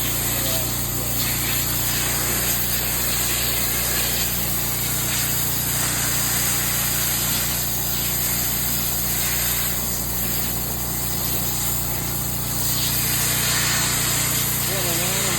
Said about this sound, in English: That's a power washer right there.